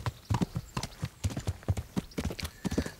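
Horse hooves clip-clopping at a steady walking rhythm in the medieval game Kingdom Come: Deliverance, close and moderately loud with no talk over them.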